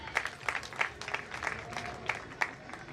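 An audience at a convocation ceremony on a Douala campus gives brief, moderately distant applause of irregular claps without cheering, and nobody talks over it.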